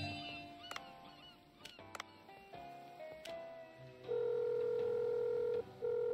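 A phone in the Dave the Diver video game dials, giving a series of short ticks and beeps followed by a steady ringing tone that breaks briefly once, faint and with no talk over it.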